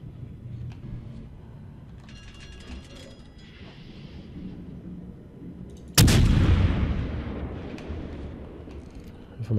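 Heavy warship guns in World of Warships, near a Wyoming battleship, fire as a single loud, booming broadside blast that rolls on into a long rumbling decay after a stretch of low engine and ambient battle rumble.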